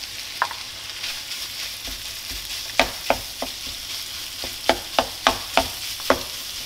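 Minced meat fries in a pan with garlic for a buttery bolognese, a steady close sizzle overlaid by a run of sharp spatula scrapes and knocks, clustered mostly in the second half, with no talking.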